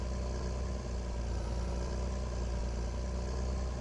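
A John Deere tractor engine with an open exhaust in a game mod, droning steadily at a constant idle-like pitch, loud and close, with no talking.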